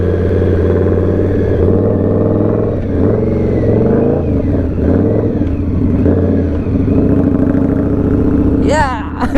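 Big motorcycle with an 1100 V-twin engine and loud exhaust, a throaty mid-pitched drone rising and falling through revs close by, with riders talking over it and a brief high whine near the end.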